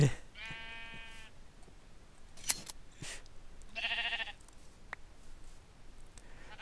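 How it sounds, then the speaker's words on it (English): Sheep in the video game Minecraft give two short, clear bleats a few seconds apart, with a few soft clicks between them against an otherwise quiet background. "Oh, that sheep doesn't want to be sheared."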